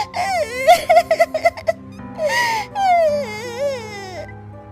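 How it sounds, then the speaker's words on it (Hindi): Someone cries and wails in a forest as a storytelling sound effect, with a series of short sobbing bursts followed by longer, wavering moaning cries. "एक दिन वो जंगल में लकड़ी बीनने गई थी कि तभी उसे रोने की आवाज आती है।"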